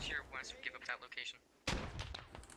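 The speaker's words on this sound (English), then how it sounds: "Arbo threw another grenade" A grenade blast in the military shooter game Squad lands as one sudden, loud burst that cuts in under people talking over comms, followed by a rumbling tail.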